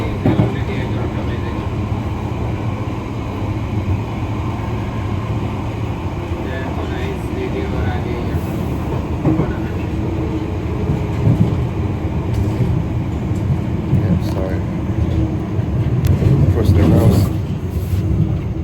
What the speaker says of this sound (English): Crossing the old rail, so we're approaching Rayners Lane.